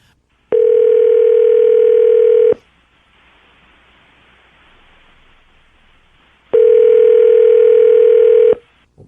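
A loud telephone dial tone plays in two long, steady bursts separated by a quiet gap of faint line hiss as a call is placed, with no talking.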